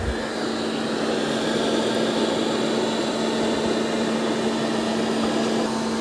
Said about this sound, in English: the Dreame just ramped up its suction. It's starting to vacuum again.